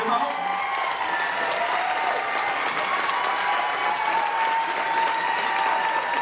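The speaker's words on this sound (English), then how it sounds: "Give them a round of applause." An audience claps loudly for non-pro award winners at a Myrtle Beach 2016 event, sustained even applause with a few cheers mixed in.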